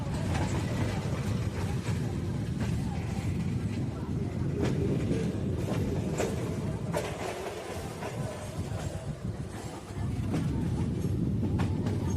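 A Sealdah–Dankuni local train rumbles along the Kolkata chord line after Dum Dum station, a loud, continuous clatter with rhythmic clicks of wheels on track joints, heard from on board.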